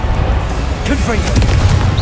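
A Confringo blasting spell bursts in the video game Hogwarts Legacy, with low booming impacts rumbling loudly and steadily under a busy, dense game soundscape.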